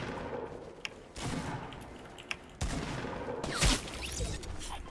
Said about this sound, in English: someone's shooting at us from behind